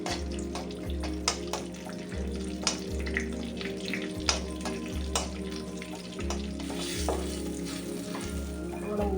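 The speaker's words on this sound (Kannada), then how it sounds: "ನಾವು ತೆಗೆದಿರಿಸಿದಂಥ ಗೋಡಂಬಿ ಚೆನ್ನಾಗಿ ಫ್ರೈ ಮಾಡಿಕೊಳ್ಳೋಣ." Cashews fry in hot oil in a pan with a constant close sizzle, while a spatula stirs them in regular strokes and taps the pan now and then; a steady low hum runs underneath.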